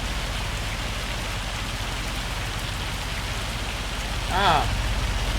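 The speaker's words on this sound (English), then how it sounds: "It was rain, now it's hail." Hail falls in a steady, dense patter that hisses on surfaces outdoors, replacing earlier rain. A brief voice cuts in near the end.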